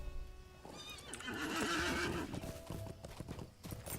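Horse hooves clip-clopping in the Lord of the Rings Online video game, a steady, close rhythmic trot with a whinny, faint talk barely present.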